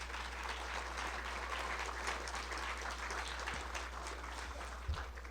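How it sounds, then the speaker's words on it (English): Audience applause at the close of a lecture on eagles and rabbits, predator and prey, a steady broad wash of clapping across the whole span at moderate distance, with no voices over it. "I won't step on my own applause"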